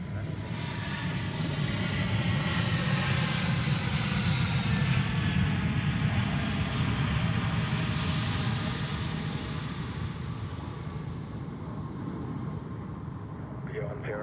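Airliner landing at Zurich Airport, a steady roaring jet engine rumble with a broad whine that swells slightly then holds, loud and continuous with no voices.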